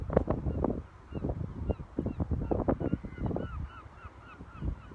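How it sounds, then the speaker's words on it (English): Seagulls call repeatedly, with honking, squawking cries at a moderate distance, some overlapping, over a soft outdoor background. "Seagulls are singing."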